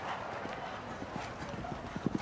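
A horse's hoofbeats thud rhythmically on the ground as it gallops through a show jumping course at the 1996 BMO Nations' Cup, fairly faint and distant under arena ambience, with a few louder strikes near the end.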